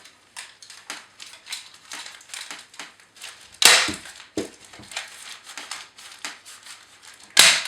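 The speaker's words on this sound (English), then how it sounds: "it's just a question, just in a normal way, of screwing up newspaper." Newspaper crumpled by hand nearby, a run of crinkly rustling crunches with a few louder sharp crackles, heard alone without talk.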